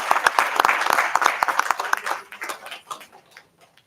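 Applause from a school board meeting audience, a burst of close, sharp clapping that thins out and fades over a few seconds.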